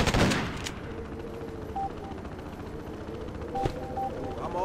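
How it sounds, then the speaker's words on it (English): Rapid gunfire crackles in the Freedom Fighters video game during a winter battle on Governor's Island, a steady rattling barrage with a couple of sharper bursts standing out. "We're taking fire."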